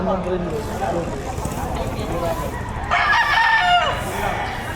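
A rooster crows loudly nearby amid a chorus of clucking chickens at a livestock auction market in Padre Garcia, Batangas, with people talking over the birds.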